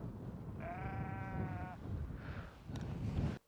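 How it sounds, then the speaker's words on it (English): A single sheep gives one clear, wavering bleat of about a second outdoors near a parked 2013 Audi SQ5, heard over steady wind rumble, followed by a fainter second call. "if these sheep will shut up"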